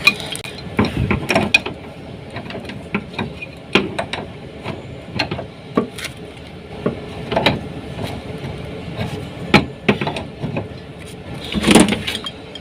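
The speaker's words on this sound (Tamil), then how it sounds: "அதுக்கப்புறம் கரெக்டான ஒரு ஸ்பேனர் போட்டு டைட்டு பார்த்துக்கு" A spanner tightens an AC copper pipe joint on an air conditioner with a series of close, irregular metallic clicks and ratcheting ticks, some louder knocks among them, and no voices.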